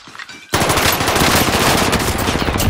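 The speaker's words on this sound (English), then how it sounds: "Taking fire." Sustained automatic gunfire from Call of Duty: Warzone starts abruptly after a brief quiet moment, then continues loud and dense in rapid bursts through to the end.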